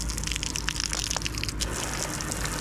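A large outdoor beach shower on the Balearic Sea coast at Castellón runs steadily, its water gushing and spattering close by in a continuous, fairly loud hiss with no one talking.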